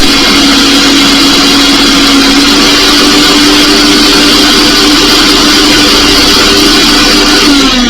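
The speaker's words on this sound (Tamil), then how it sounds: "மாற்றினதுக்கப்புறம் நம்ம வந்து ஆன் பண்ணி பார்ப்போம். ஆன் பண்ணால் ஓடுது." A mixer grinder motor runs continuously after its switch has been replaced, giving a loud, steady whirring drone with a constant hum that barely changes over the whole stretch, very close.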